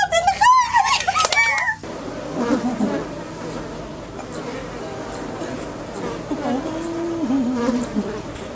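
A bee buzzes in a lively outdoor village setting, a steady insect drone running under loud overlapping talk and shouting throughout.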